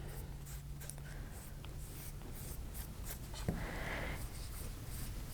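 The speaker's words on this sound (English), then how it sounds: "Now the next step is to take this and coat the other side of the disc completely with Mod Podge." A brush spreads Mod Podge across a coaster disc with soft, repeated scratchy strokes, quiet and close against a faint low hum, with no voices.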